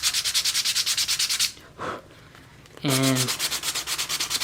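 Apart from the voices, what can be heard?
sanding the edges of a leather wallet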